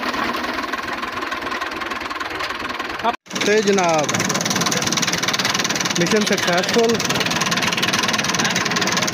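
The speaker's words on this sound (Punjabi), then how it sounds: "tractor the race" A diesel tractor engine, rigged as a jugaad water pump for draining a paddy field, revs and runs steadily at close range after a brief cutout, with someone talking over the continuous drone.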